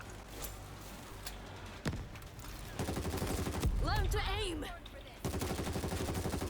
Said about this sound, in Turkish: bir şey patladı yanımda